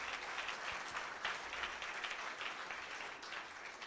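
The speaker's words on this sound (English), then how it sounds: "If you could give those folks a big round of applause," An audience at an annual campus lecture gives a steady round of applause, with dense clapping that holds at a moderate level from start to end and no talking over it.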